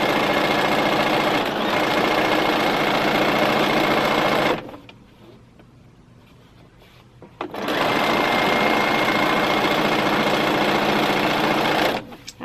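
Sewing machine stitching quilt patches for an African Shuffle Take 5 kit quilt center, running steadily and loudly in two long bursts separated by a few seconds of near silence.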